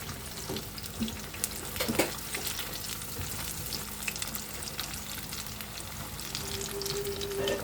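Food sizzles steadily in a hot wok, with occasional clinks and scraping of a utensil against the pan as pieces are turned over.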